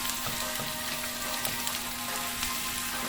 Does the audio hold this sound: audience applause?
no